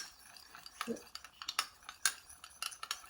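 A beet salad with fresh parsley, salt and pepper being mixed in a bowl, giving irregular light clinks and scrapes of a utensil against the dish, close and fairly quiet.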